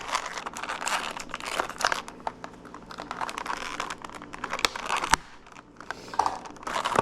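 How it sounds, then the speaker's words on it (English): Crinkling and tearing of packaging while someone struggles to open a taped package: dense, close rustling and crackling for the whole stretch, with a sharp snap partway through and no talking. "Struggling opening this. I thought, oh, it says you're supposed to cut this tape."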